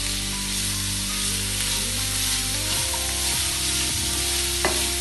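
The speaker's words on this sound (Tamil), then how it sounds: "இப்போ நல்லா வதக்கிக்கலாம்." Carrot rice sizzles in ghee with turmeric and salt in a pan as it is stirred, giving a steady close frying hiss broken by a few scraping stirs.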